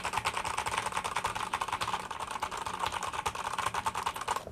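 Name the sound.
typing on a clicky computer keyboard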